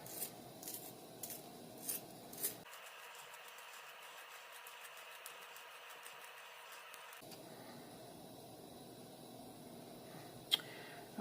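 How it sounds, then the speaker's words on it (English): An old-school pencil sharpener grinds a pencil in a steady, faint scraping whir lasting several seconds, framed by soft handling clicks and taps before and after. "This is like a super old school sharpener."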